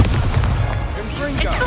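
Expulso explosion spell in the game Hogwarts Legacy, a booming blast with rumbling low-end decay and crackling debris, loud, with a voice speaking over it.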